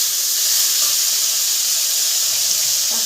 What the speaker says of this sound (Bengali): তারপরে আলুটাকে ভালো করে ফ্রাই করতে হবে নাড়াচাড়া দিয়ে